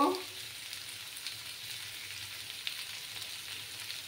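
Food frying in a pan for a pepe alu tengra fish curry gives a steady, soft sizzle that holds through the whole stretch, with a faint low rumble underneath and no voices.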